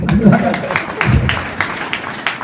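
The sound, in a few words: seminar audience clapping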